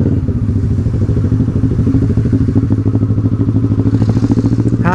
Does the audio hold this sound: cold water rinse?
no